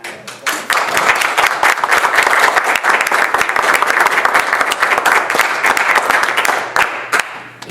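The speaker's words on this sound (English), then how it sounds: "I think we should give him a round of applause." City council meeting audience applauding a police sergeant standing at the back of the room, a loud sustained round of many hands clapping that swells quickly and tapers off near the end.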